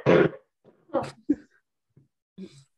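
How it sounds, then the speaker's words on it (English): A woman gives a few short coughs and throat-clearing bursts in an indoor podcast setting, close and separated by brief quiet gaps. "a little cough break"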